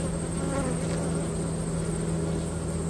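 A dense, steady hum of honey bees buzzing around an open hive during an inspection, close and continuous with no talking.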